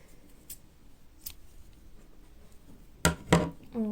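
Scissors snip through crochet yarn on a granny-square skirt, two sharp close cuts near the end after a few faint ticks over quiet room noise.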